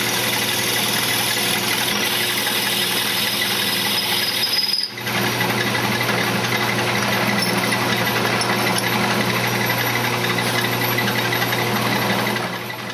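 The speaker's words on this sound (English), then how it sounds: "just mounted a drill bit in the chuck here. We'll go ahead and just drill it down and into it" A steady, continuous mechanical whir of a drill bit mounted in a lathe chuck boring into apple wood, constant and close, with a brief dip midway and no talking.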